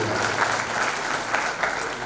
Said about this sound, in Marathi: जोरदार टाळ्या ठोंबरे सरांनी